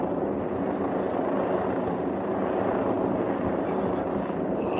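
An NPAS Eurocopter EC135 P2+ police helicopter circles overhead above Bournemouth, its rotor and turbine noise a loud, continuous broadband roar that holds steady throughout with no voices.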